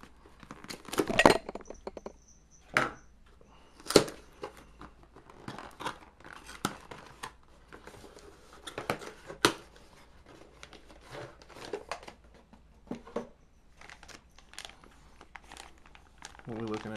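A package is cut open with scissors and unwrapped, with sharp snips, crinkling plastic and rustling wrapping heard up close in bursts, along with a few light clinks, while a person talks intermittently.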